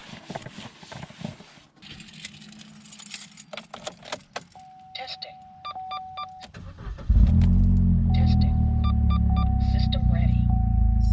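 A Chevy four-cylinder engine with a fresh set of spark plugs cranks and fires after keys jingle, then settles into a loud, steady idle that carries on alone.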